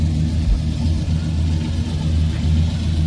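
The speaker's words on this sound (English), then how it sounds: "Y'all hear that motor?" A modified, non-stock engine in a custom classic convertible rumbles steadily at close range, a loud, even low-pitched idle with slight throttle wavering and no speech over it.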